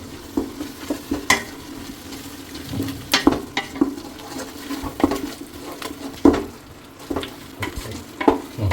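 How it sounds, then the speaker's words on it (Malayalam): Masala with chilli and turmeric powder is stirred in a frying pan, giving irregular spoon scrapes and knocks over a low sizzle, close and fairly loud with no talking. "ഇനി നന്നായിട്ട് ഇളക്കി കൊടുക്കാം"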